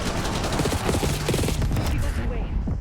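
Sustained gunfire in Call of Duty: Black Ops 6, a dense, loud fusillade of rapid shots fired at a limo coming down a street, fading away near the end.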